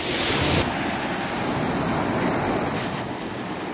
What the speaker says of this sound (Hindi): पानी का शोर है और हवा है